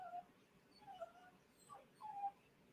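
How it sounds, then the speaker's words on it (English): A dog whines softly in a quiet room, giving three or four short, high, wavering whimpers with brief silences between them. "we'll just listen to this dog whine"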